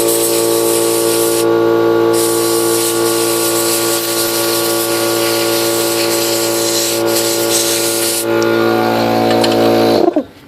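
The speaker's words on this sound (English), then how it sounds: "So I'm going to turn on my compressor." Compressed air hissing loudly and steadily into a small 9 gram Horizon Hobby A330 servo to clear debris, a near continuous blast with tonal whine that cuts off abruptly at the end.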